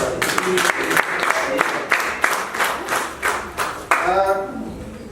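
An audience applauding, with dense, steady clapping from many hands close by that thins toward the end, and a voice briefly heard near the close.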